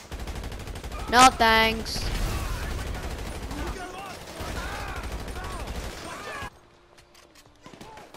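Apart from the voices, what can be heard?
gunfire from upgraded Mark II guns in video game GTA V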